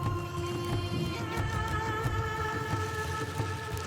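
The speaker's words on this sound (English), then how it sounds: "what you're hearing now is some form of Aztec drumming and chanting" Aztec drumming and chanting at a stadium ceremony, with feathered dancers in headdresses, a dense continuous crowd-filled wash of drums, voices and sustained tones at moderate distance.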